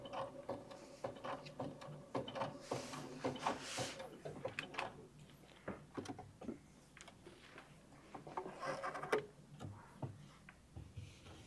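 Sewing machine running sashiko decorative stitches through a bag, a quiet, rapid, irregular mechanical ticking and clatter in short runs, heard close with faint background noise.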